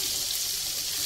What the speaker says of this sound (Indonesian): Hanya kita goreng ya kecoklatan.